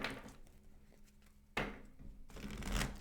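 Close, crisp riffling of tarot cards being shuffled in two bursts with a short pause between, with some light paper rustle and no talking.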